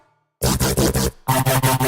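Electric shaver muffled by a hand pressed over its blades, giving two loud, harsh, throbbing buzz bursts close up, each wobbling in a rapid pulsing pattern with a brief gap between them.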